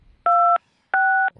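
Two telephone keypad tones beep in quick succession on a phone during a live television interview, each a clean, loud dual-tone note about a third of a second long with a short gap between, followed by a faint click.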